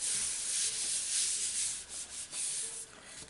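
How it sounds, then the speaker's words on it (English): Hands rub briskly over a folded greeting card panel, giving a soft, close, continuous papery swishing with a few brief dips in intensity. "give it a little rub"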